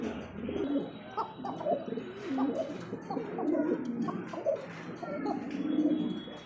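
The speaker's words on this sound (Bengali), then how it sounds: "এখানে আরও একজন কিন্তু খোকা কবুতর দেখতে পাচ্ছি" Several pigeons at a pigeon seller's loft coo in overlapping, throaty rolling calls, steady and close throughout, with light chirps mixed in.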